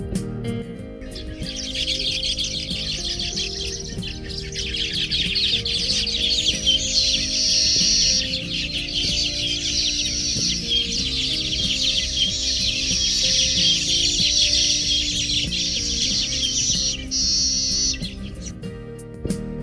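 A weaver bird gives a continuous, high, sparrow-like chattering of rapid chirps and buzzy trills, sustained for many seconds at close range with a soft background hum and no voices.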